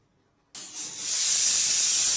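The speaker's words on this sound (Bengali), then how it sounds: "দেখুন এখানে আমার সিটি পড়ছে" A pressure cooker boiling bottle gourd greens on a gas stove suddenly lets out its whistle after a moment of quiet: a loud, close steam hiss that swells and then holds steady.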